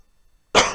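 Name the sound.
cough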